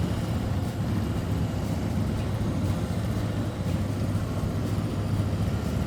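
A motorcycle creeping along at very slow speed on the clutch, its engine holding a low, steady rumble without revving, continuous and moderately loud with wind-like noise around it.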